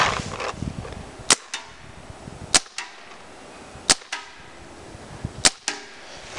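Four sharp, loud shots from a Dangerous Power G4 paintball gun fired one at a time in a kickback test, spaced roughly a second apart, each with a short echo, and no talking.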